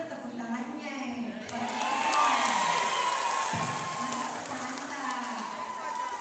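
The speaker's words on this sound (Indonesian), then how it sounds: "Mana kalau tepuk tangannya?" A school contest grand final audience at a regency-level student ambassador event in Bone bursts into loud, sustained applause and cheering that swells mid-clip, with music and a voice underneath.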